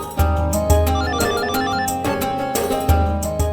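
A mobile phone left on a kitchen stove rings with a loud, repeating melodic ringtone, its bright notes pulsing in a quick rhythm with no one speaking.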